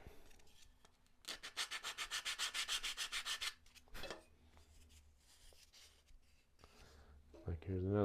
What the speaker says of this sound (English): you take your sandpaper after it